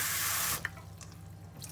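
Cold tap water runs steadily over just-steamed broccoli and carrots in a kitchen sink, a loud continuous rush that cuts off partway through, leaving faint drips and small clinks in a quiet room.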